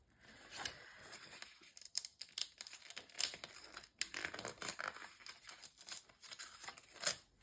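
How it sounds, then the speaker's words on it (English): A paper cover is peeled carefully away from a paper pack being repurposed into a folio, giving a series of crisp crinkling and tearing rustles with sharp peaks, close up and with no speech. "So I'm just going to kind of try and carefully peel this off."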